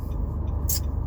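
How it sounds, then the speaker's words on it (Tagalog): Road traffic on the way home, with cars and buses passing as a steady low engine rumble and a brief high hiss like an air brake near the end, close and fairly loud. "Traffic na, sabi ko na traffic dito pa uwi."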